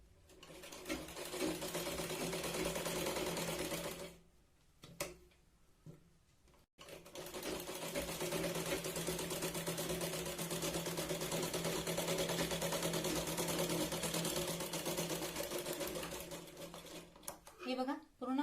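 A sewing machine stitches blouse lining to the main fabric in long, fast runs, close and steady, stopping briefly twice before starting again, with a voice talking over parts of it.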